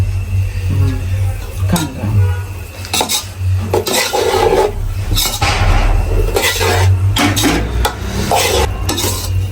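Idiyappam being stirred with tomato sauce in a pan on a stove, with a utensil scraping and knocking against the pan in bursts, close and loud over a low hum, and a little talk now and then.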